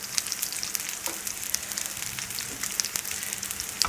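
Chapli kebabs of minced meat fry on a slow flame, giving a soft, steady sizzle and crackle with small pops throughout, fairly close and quiet, with no talk.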